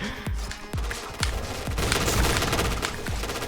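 Rapid shotgun fire in the online shooter game Point Blank: a dense volley of sharp, booming shots that follow one another quickly, loud and close against a busy game background.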